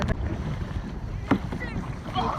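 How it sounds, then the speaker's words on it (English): Strong wind buffets a kayak out on choppy water in a calanque, giving a steady, loud rushing roar with splashes while people talk close by. "It's so windy and so C'est wavy."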